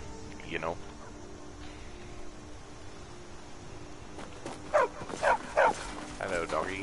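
Dog in a fantasy role-playing video game, a few short yapping barks near the end over quiet background ambience, with someone talking briefly at the start.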